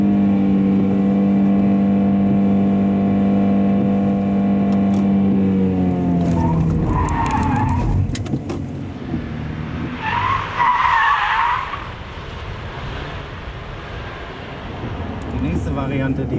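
Car performing a tight turning manoeuvre during a military police protective driving training session, engine droning then tires squealing and skidding loudly for several seconds, close by with engine noise throughout.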